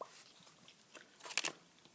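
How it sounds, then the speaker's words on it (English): Juicy Fruit bubble gum is chewed close up with soft, quiet, wet smacks and clicks, a few sharper bursts clustered together, no talking. "here's some bubble gum I'm chewing today, by the way. Juicy fruit bubble gum."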